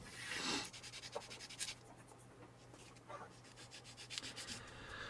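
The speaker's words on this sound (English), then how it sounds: "I'm sanding, mate." Close, quiet sanding by hand: rhythmic scratchy rubbing strokes in short bursts with brief pauses over a low background hum, no talk.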